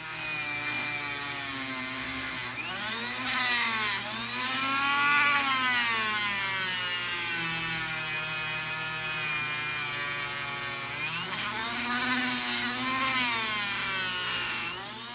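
A Dremel rotary tool with an abrasive buffing wheel scrubs Lionel toy train wheels. Its steady, close high whine rises and falls in pitch as the load changes, with faint scraping against the metal.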